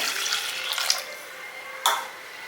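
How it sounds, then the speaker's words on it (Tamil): A tumbler of water is poured into a pot, splashing in a steady stream for a few seconds, with a brief louder gush near the end. "போட்டு ஒரு டம்ளர் தண்ணி விடுங்க"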